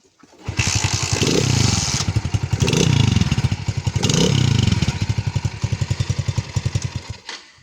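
A small Alfa moped engine is kick-started several times, sputtering and revving in bursts, then settles into a steady, close, pulsing idle with the choke on.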